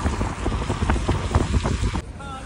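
Rain and melting snow falling in Sonmarg, Kashmir, patters steadily over a low rushing roar with wind noise, loud and close, then dropping off abruptly near the end.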